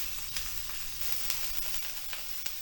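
Fish fries in hot oil with a steady crackling sizzle and occasional sharp pops, moderately close and alone with no voices.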